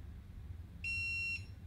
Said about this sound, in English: That beep means we did it.